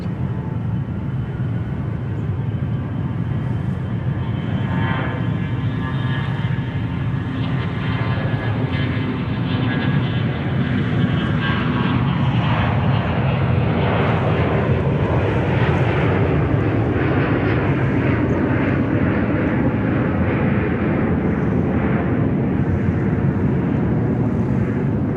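Lockheed KC-130 fitted with refueling pods taking off at Sydney Airport, a loud sustained turboprop drone that builds and shifts in pitch as the aircraft departs, with no talk.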